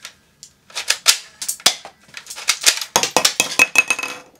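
A soft bullet toy gun fires six quick shots in a rapid burst, each a sharp clicking pop, close and alone with no talking.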